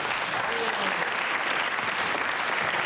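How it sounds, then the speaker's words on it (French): Studio audience at a French TV entertainment show applauding steadily, a dense even wash of many hands clapping at close range throughout, with no voices rising above it. "On l'applaudit."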